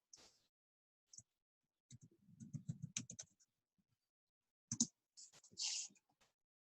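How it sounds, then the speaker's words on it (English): Fingers type a word on a computer keyboard in sparse, faint clicks and short rapid runs of keystrokes, heard close up in a quiet room. "So we are going to type in the word constraint"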